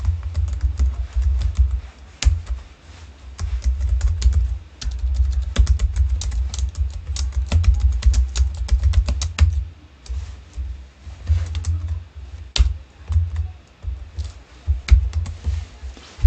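Java code being typed on a computer keyboard: rapid, close keystrokes in uneven bursts with short pauses, crisp clicks throughout and a brief lull midway.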